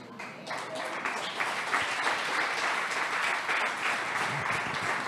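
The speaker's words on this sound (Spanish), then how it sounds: "démosle fuerte ese aplauso al Señor" A church congregation breaks into strong applause for the Lord, many hands clapping in a dense, sustained roar that swells after a quieter start and holds steady, with some voices mixed in.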